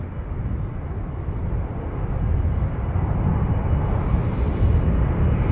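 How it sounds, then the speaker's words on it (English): Jet airliners making side-by-side parallel landings on the 28 runways at San Francisco International Airport, a broad steady engine roar that swells slightly louder as they pass, with no talk. "Double your pleasure, double your fun with parallel landings on the 28s."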